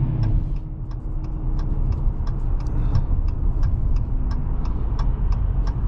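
A deep, steady engine rumble heard from inside a moving Dodge Challenger R/T with a 5.7-liter Hemi V8 and manual transmission, with a turn signal ticking in a regular rhythm over it.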